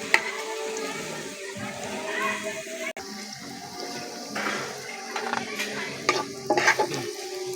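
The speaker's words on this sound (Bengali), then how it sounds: "মশলাগুলোকে একটু বাদামি করে ভেজে নেব" Spices frying in oil until brown make a close, continuous sizzle under repeated stirring and scraping in the pan, with a few sharper clinks toward the end and no talking.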